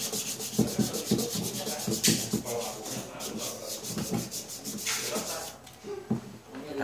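Sandpaper rubs back and forth on a broken guitar neck under repair, giving a rhythmic, close scraping with quick repeated strokes throughout.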